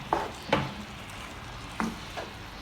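Cabbage and green onions fry for chicken chowmein while being stirred, with a few distinct scraping and clacking strokes over a soft, steady sizzle and no talking.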